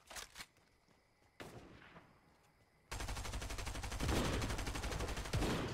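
Fortnite gunfire: a few sharp single shots, then sustained rapid automatic fire that grows louder and continues almost without a break to the end.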